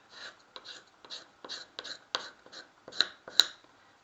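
Short, dry scraping strokes repeat in a quick irregular rhythm, close and quiet, as stationery scissors sand the surface of a thin brittle straw.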